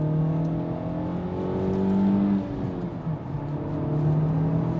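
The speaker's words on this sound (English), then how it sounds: "Let me downshift it again. It's going to rev match." A Honda Civic Type R engine revs up and settles while rev-matching on a downshift, a close, steady harmonic drone that swells around the middle before dropping back to a sustained hum.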